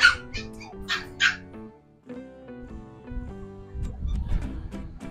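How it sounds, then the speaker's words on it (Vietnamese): Two purebred poodles with thick coats and very short legs bark and yip in quick bursts at the start, then whine more softly under other sound. "Hai con này nó sủa không nghe gì luôn đấy."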